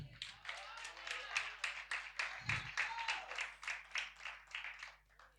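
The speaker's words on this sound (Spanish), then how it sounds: "Dele un aplauso al Señor." Church congregation applause with steady, dense clapping throughout, fairly quiet and somewhat distant, with a low rumble beneath.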